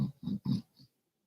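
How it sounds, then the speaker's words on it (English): A boxer dog snores close by, four short grunting, piggy snorts in quick succession that fade toward silence. "She's literally snoring like crazy."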